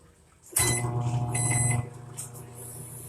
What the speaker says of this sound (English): I've got the microwave going and music going